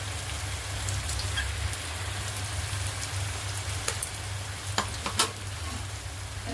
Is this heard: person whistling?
no